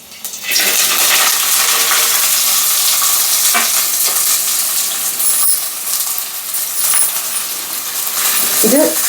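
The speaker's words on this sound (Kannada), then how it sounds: "ಎಣ್ಣೆ ಕಾಯ್ದಿದೆ ಹಾಗಲಕಾಯಿ ಹಾಕ್ಕೊತಾ ಇದ್ದೀನಿ" Pieces of bitter gourd go into hot oil and set off a sudden loud, dense sizzle that keeps roaring for several seconds, close and harsh, with a few scraping clatters near the end.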